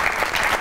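Studio audience on a Pakistani comedy talk show claps to welcome a guest, a loud, close burst of applause with some cheering texture and no speech over it.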